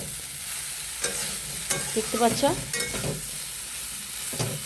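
Soybean chunks for a vegetarian curry fry in a pan in a small home kitchen, with broadband sizzle running throughout and several scraping stirs of a spatula near the middle and end; a brief voice is heard.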